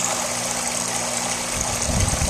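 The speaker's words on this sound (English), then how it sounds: "This waterfall, just turn it on." Backyard garden waterfall running, a steady close rush of splashing water with a low pump-like hum beneath it, no voices.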